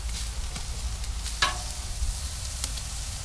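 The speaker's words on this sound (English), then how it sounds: "See that sizzle?" Ribeye and fillet steaks sizzle on a Vision kamado grill during the first flip, a steady broadband hiss with a few sharp crackles and clicks, close and moderately loud.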